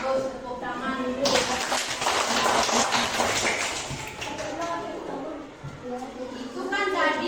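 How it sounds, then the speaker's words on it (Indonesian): A class of children claps hands together for several seconds, a dense burst of rapid overlapping claps close by, with a teacher's voice speaking before and after. "Bagus, tepuk tangan dulu."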